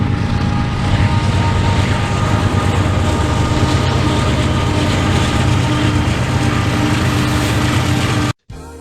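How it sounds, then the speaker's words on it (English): A long freight train rolls past close by, a loud, steady roar and rumble with grinding wheel tones that continue unbroken before cutting out abruptly. "Let's go take a look at this train."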